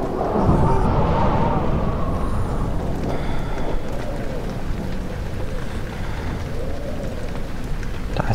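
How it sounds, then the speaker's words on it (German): Wind blowing through a dark interior in the video game Amnesia, a continuous rushing, hissing gust with some rattling texture, loud and steady throughout, with no talk over it. "Sah zumindest stark nach Wind aus."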